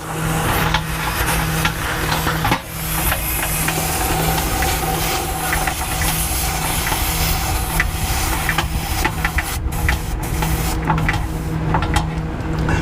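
Air hisses steadily from an RV tire valve stem at close range with a mechanical hum underneath, sputtering and easing off near the end.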